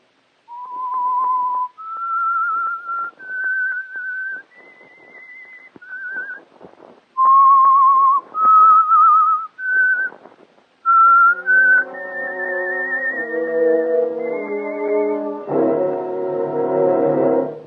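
A clear, tuneful whistled melody of sustained notes, the theme of the radio program The Whistler, rising and falling in steps, then joined by a swelling orchestral chord near the end.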